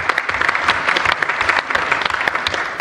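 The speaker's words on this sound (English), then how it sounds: "give him a round of applause" Loud, close applause from a conference audience after a speed debate round, brisk, dense clapping sustained through the clip with no speech on top.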